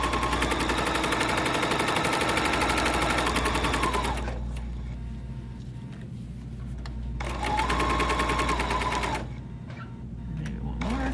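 A sewing machine stitches fabric and lining in two bursts of rapid, even clatter, close and loud, with quieter pauses between runs.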